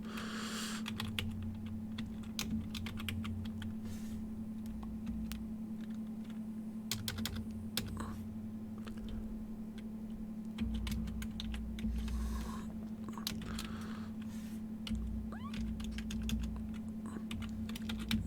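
Keys clatter on a computer keyboard as an IP address is typed in a quiet room, quick bursts of clicks separated by short pauses, with a steady low hum underneath and no speech.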